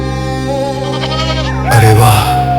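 A little goat bleats in a loud, close wavering cry that swells toward the end, set against a sustained musical background.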